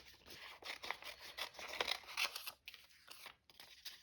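Scissors snip quickly around a piece of paper in a fast, irregular run of crisp cuts and rustles, close and fairly quiet.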